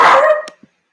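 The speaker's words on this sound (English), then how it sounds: "You're barking." A dog gives one loud, close bark that trails off quickly, followed by a faint short yip, with no talking.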